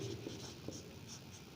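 Pen scratches across paper while a letter is handwritten, a few quick soft strokes, close and faint.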